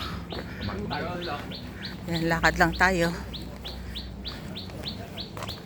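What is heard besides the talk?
birds chirping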